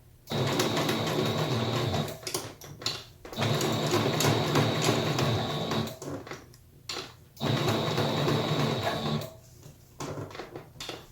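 A sewing machine stitches a fabric face mask with a removable filter pocket, running slowly in three steady bursts of a couple of seconds each, separated by short pauses, close and clear with no talking.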